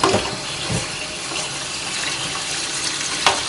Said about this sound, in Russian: Так, оттуда идет горяченнейшая вода.